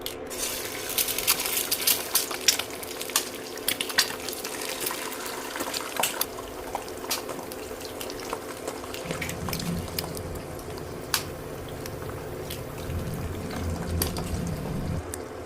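Eggs cracked into hot oil in a pan for scrambled eggs give a steady hissing sizzle with scattered crackles and occasional sharp taps, close by, swelling in the low end partway through.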